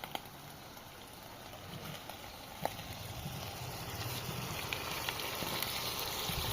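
Onions frying with eggplant in a pan on a rooftop terrace, a soft continuous sizzle and light patter, fairly faint and steady throughout with no talk.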